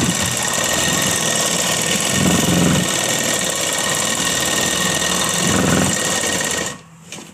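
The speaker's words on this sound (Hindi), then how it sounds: "अब हम सीधा करके कपड़े को किनारे की तरफ से सिलाई करेंगे।" Sewing machine stitching along a fabric edge: a loud, continuous mechanical whir with a steady rapid chatter, swelling slightly twice, then cutting off abruptly near the end.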